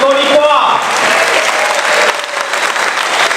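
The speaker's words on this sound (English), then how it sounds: "a round of applause for YB" Crowd applause at a formal dinner event, dense clapping from many people in a hall, with a voice speaking over the first moments before the clapping carries on alone.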